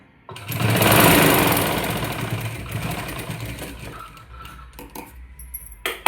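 A sewing machine stitches the folded edge of a quilt made from an old blanket, a loud steady whirring run that eases off toward the end, with a few small clicks and handling noises after it stops.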